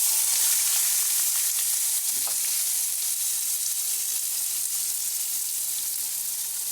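Onions fry in hot oil with cumin seeds, a loud, even, close hiss that holds steady throughout.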